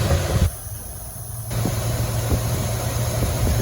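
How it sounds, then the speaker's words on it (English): A Buick-powered Chevrolet C20 Suburban engine with a Quadrajet carburetor idles steadily close by, a low rumbling hum with a hissy edge that briefly dips quieter as it drops from high idle to base idle before settling. "And it should drop all the way down to your base idle"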